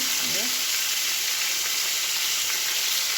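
Fish pieces fry in a pan of hot oil until reddish-brown, giving a steady, close, bright sizzle that hisses evenly throughout without pause.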